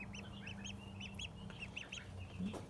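Ducklings peep inside a box, a run of high, rising chirps repeating in quick clusters, close and clear over low background hum.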